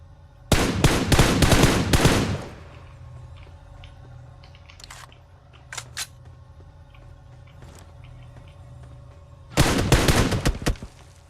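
Gunfire in the battle royale game PUBG Mobile: a loud rapid burst of automatic shots, a few scattered single shots during a quieter stretch, then another close rapid burst near the end.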